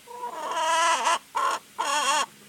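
A sex-link chicken hen kept as a house chicken gives three drawn-out, wavering clucking calls up close, the first long and the next two shorter with brief gaps, and no talking.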